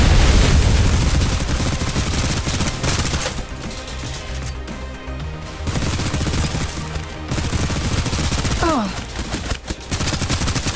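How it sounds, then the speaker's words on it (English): Rapid automatic gunfire from a shooter video game set in a containment zone, loud dense bursts of overlapping shots with booming impacts, pausing briefly midway before resuming, with faint game voice lines underneath. "Suppressive fire."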